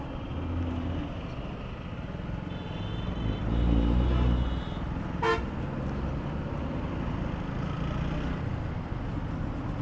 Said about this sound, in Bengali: পুরো রাস্তায় জ্যাম।